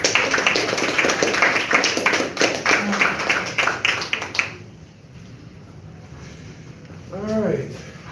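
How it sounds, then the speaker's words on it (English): Audience clapping at a community peace summit welcomes the next speaker, a dense burst of handclaps that runs for several seconds, then cuts off into quiet room noise. "let's go ahead and give him a clap"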